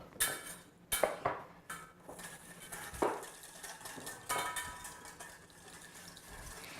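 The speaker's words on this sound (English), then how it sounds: "I'm going to put a little sea salt, a little pepper, and then I'm going to whisk this in." Sea salt and pepper are whisked into a lemon dressing in a bowl, giving quick metallic clinks and scrapes in short bursts, fairly quiet and close, with no talking.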